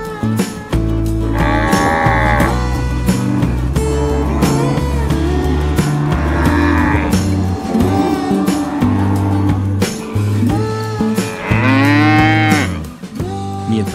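Cows moo repeatedly, loud and close, with long low drawn-out calls overlapping one another across the whole stretch, one rising into a higher bellow near the end.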